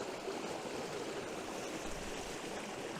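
A small wintry stream spills over a little waterfall, a steady soft rushing wash of water, faint and continuous with no other sounds.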